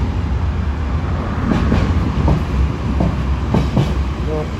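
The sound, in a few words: freight train passing through Syston station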